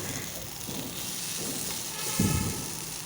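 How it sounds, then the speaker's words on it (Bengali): Fried potatoes stir-fried with soybean chunks in a pan give a soft, steady sizzle and hiss, with a louder scraping stir partway through. "ভেজে রাখা আলুটা দিয়েও আমি ভালোভাবে একটু কষে নিলাম।"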